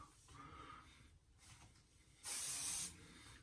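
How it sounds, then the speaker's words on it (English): A single short hiss of hair spray, about half a second long, stands out sharply against a quiet room with faint rustling. "I'm just gonna hold it out and give it a little spray"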